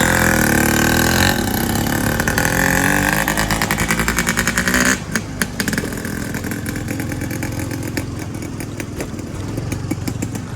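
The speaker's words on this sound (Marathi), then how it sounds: "गाडी आता पुढे जरा घेऊन जाऊन नंतर चालू करणार आहे, आवाज खूप आहे म्हणून" A motorcycle engine runs loud and close, first with a steady throbbing drone. It then drops into a slower idle with rapid putter pulses.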